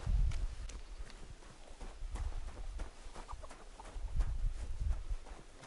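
Horse hooves clip-clop at a steady walking rhythm in the medieval video game Kingdom Come, moderately close and alone without talk.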